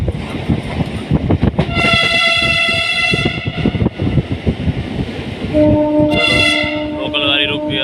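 A Vande Bharat express train rushes past near Howrah and Liluah station, loud and close with a continuous roar of wheels and two long, bright horn blasts, one early and one near the end.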